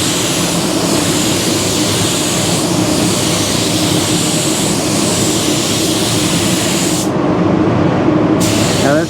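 A paint spray gun lays down automotive clear coat in a steady, loud continuous hiss that runs almost without break, briefly cutting off near the end before resuming.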